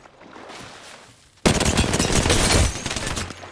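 Apex Legends gunfight: quiet distant pops give way to a sudden loud, dense burst of rapid automatic fire up close that rattles on for about a second before tapering off.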